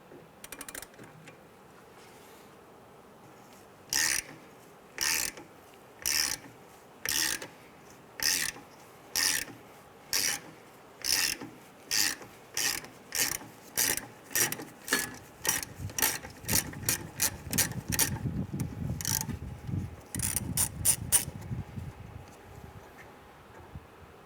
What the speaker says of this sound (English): We're going to remove this 12 millimeter bolt holding this bracket in place.